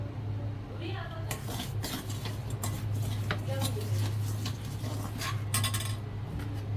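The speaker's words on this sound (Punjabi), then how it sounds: "ਸਾਰੀਆਂ ਮਿਰਚਾਂ ਮਿਕਸ ਕਰ ਦਿੰਨੇ ਆ ਚੰਗੀ ਤਰ੍ਹਾਂ ਰਲਾਉਣਾ" A spoon stirs green chillies with spice mix and oil in a metal pot, giving repeated scraping clinks and sharp metallic taps in an irregular rhythm, close and moderately loud.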